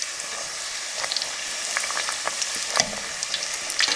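Puri deep frying in oil crackles with a constant bright sizzle, dotted with small pops and bubbling bursts, close up and without speech.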